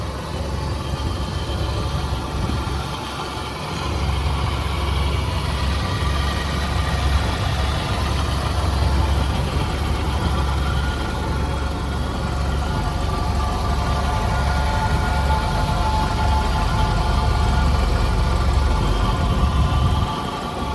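A 1994 Suzuki Katana Corsica idles steadily, a continuous low engine rumble with a broad hiss above it. The sound holds level the whole time with no revving, and there are no voices.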